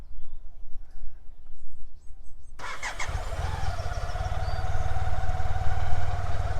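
A BMW K75S motorcycle that sat unused for ten years cranks and catches after a quiet pause, then settles into a steady, close, even-toned idle with no voices.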